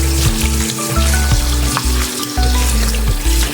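Loud, constant sizzling of chicken sautéing in a hot pan, crackling steadily up close with a low hum beneath and no voices.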